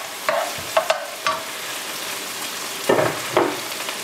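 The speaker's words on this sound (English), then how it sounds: "you're probably going to stir this around until the onions become a little bit soft" Onions, garlic and green beans frying in a pan, stirred with a utensil in about five distinct scraping strokes over a soft, steady sizzle, with no talking.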